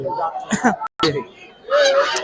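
Loud honking calls from ducks, several bursts in a row with brief gaps, close by amid a busy crowd at a duck market in Nilphamari, Bangladesh.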